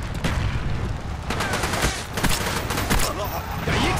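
Dense, continuous gunfire in Garry's Mod, rapid bursts and booms layered over one another at close range, loud and sustained, with game voices faintly mixed in.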